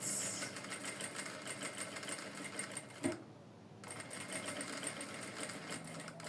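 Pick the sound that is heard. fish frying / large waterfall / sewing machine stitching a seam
sewing machine stitching a seam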